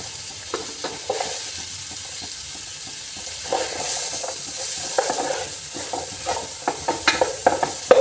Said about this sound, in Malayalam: ഒരു കഷ്ണം ബട്ടർ ഇട്ടാണ്ട് അതിക്കിതാ ക്യാപ്സിക്കം ക്യാരറ്റ് ഒരു സവാള അത് കുറച്ചിട്ടുണ്ട് നമുക്ക് വഴറ്റിയെടുക്കാം